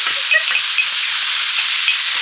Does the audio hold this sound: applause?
no